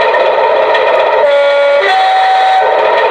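A Class 22 model locomotive with DCC sound plays a loud, continuous diesel engine drone, overlaid midway by two sustained horn-like tones, one after the other.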